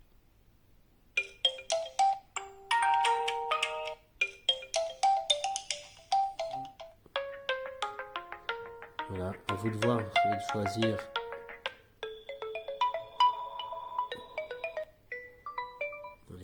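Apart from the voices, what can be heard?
phone ringtones played from Oppo A9 2020 settings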